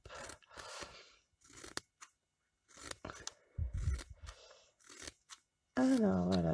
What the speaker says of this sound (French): Alors avec les ciseaux Stampin' Up, l'avantage c'est que ça coupe jusqu'au bout.